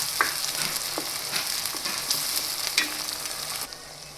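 Onions and tomatoes cook in a pan for a Kathiyawadi-style varaliyu, giving a steady close sizzle and fry with a few soft stirring scrapes and clinks throughout.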